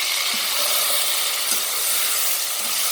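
Tomatoes go into onions frying in a pan for aloo kofte, giving a steady, close sizzling hiss with faint stirring scrapes throughout, no voices.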